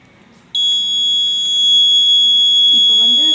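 An Arduino smoke detector buzzer sounds when smoke is applied, a sudden loud, steady high-pitched electronic tone that holds without break after a short quiet start, with a voice briefly starting near the end.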